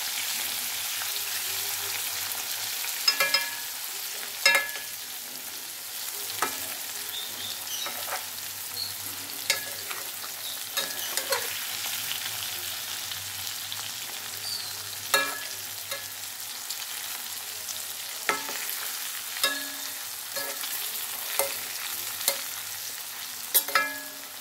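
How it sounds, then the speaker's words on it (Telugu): Bitter gourd pieces frying in a pan give a steady, soft hiss of oil, broken by scattered sharp pops and crackles, with stirring noises and no talk. "ఒక సైడ్ బాగా ఫ్రై అయ్యింది."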